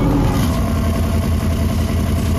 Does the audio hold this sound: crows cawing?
no